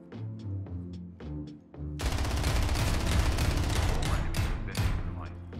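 Suppressed Falcon pistol gunfire in a video game: a few clipped shots up front, then a dense, loud stretch of rapid firing that runs continuously to the end, with voices mixed in.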